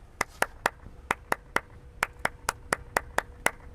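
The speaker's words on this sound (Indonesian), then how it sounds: "Kita tes ya, kita coba dulu. Tepuk tangan pramuka." A group performs a rhythmic Indonesian scout clap, with about fourteen crisp, unified claps in a patterned sequence of short groups and brief pauses, close and clear against a quiet background.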